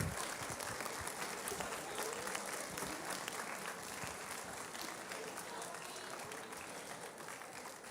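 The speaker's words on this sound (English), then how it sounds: "All right, round of applause for those students." An audience at an eighth-grade celebration applauds students of the month with sustained, steady clapping that sounds somewhat distant and fades slightly toward the end.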